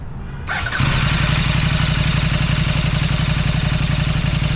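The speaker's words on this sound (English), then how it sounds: "I can give you a little startup." A 2014 KTM RC8R V-twin superbike engine with no exhaust fitted cranks and catches, then settles into a loud, lumpy, rhythmic idle with mechanical clatter, close by and unmuffled.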